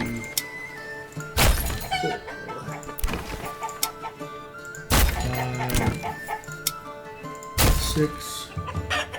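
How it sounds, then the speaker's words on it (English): Chickens cluck in the medieval city-building game Manor Lords, layered game ambience with bursts of clucking and squawks plus several loud sharp crashing hits recurring every few seconds. "And then we have chickens here."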